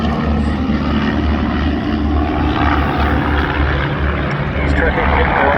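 Loud propeller aircraft formation droning past at a Southport airshow, a steady broad engine roar with low throbbing that stays constant and close throughout, with a commentator talking over it.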